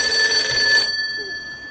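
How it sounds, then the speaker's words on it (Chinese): An incoming call sets a telephone ringing, an electronic bell tone that sounds steadily and fairly loud close by, then cuts off partway through, leaving a quiet room. "你来电话了"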